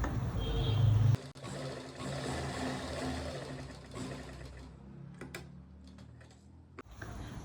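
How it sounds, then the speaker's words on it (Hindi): A sewing machine stitches fabric at the center of a garment neckline, running in a fast continuous whir up close for several seconds, then slowing and stopping with a few clicks. "बीच सेंटर में एक सिलाई लगाएंगे"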